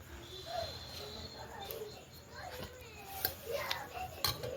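A spoon scrapes and clinks inside a pot of biko sticky rice cake as it is stirred, with intermittent knocks and light metallic taps, faint voices in the background.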